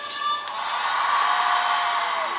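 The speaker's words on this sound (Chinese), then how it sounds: "掌声。" A concert audience cheers and whoops in a continuous crowd roar that holds steady and loud the whole time.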